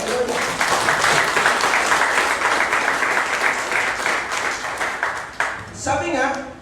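A church congregation at a Sunday worship service breaks into applause, a dense stretch of many hands clapping that swells and holds before tapering off near the end, where a voice begins speaking.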